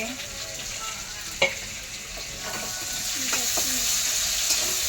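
Chopped onions fry in hot oil for a jackfruit and shrimp dish, a steady close sizzle with occasional stirring scrapes and faint clinks, growing slightly louder toward the end, no talk.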